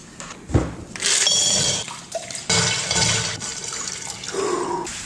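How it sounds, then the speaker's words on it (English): A man plunges his head into a bowl of water, giving a sharp splash followed by sloshing and dripping that rise again in a second burst before trailing off into quieter trickles. "That dunking his head into the bowl of water is his signature move."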